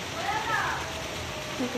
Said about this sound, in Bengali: মেঘ করেছিল দেখাতে এলাম, সঙ্গে সঙ্গে বৃষ্টি এসে গেছে।